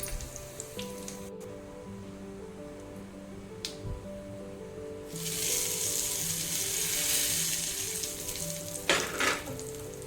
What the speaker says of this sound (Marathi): तर आता ही फोडणी घातली ते पूर्ण खालवर करून असं चमच्याने खालीवर करून घ्यायचं